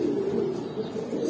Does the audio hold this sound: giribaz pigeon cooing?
yes